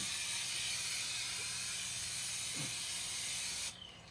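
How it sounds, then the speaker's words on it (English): Adhesive hisses steadily from a spray can onto insulation pieces inside a G30 Chevy van, a continuous close spray with a small rattle partway through, cutting off sharply near the end. "I'm going to turn them over and spray them again."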